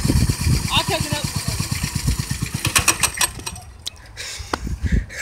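A mini bike engine putters at idle close by, with rapid regular pulses under people talking that fade toward the end as sharper knocks take over.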